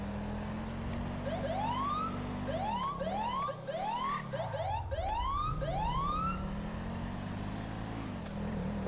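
Police car siren in the video game GTA 5, a wailing, repeating up-and-down tone heard alone at a moderate distance over steady engine and road rumble, with no talking.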